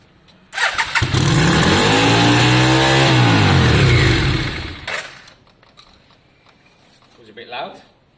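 A Yamaha Virago motorcycle fires up after its blocked carburettors were cleaned, the exhaust revving loud and close for about four seconds before dropping away, followed by a brief faint voice.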